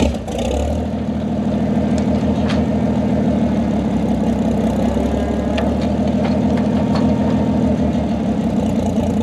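A tractor engine idles steadily and close by, a loud low rumble with a rhythmic mechanical chug that runs unbroken, with a few faint clicks on top.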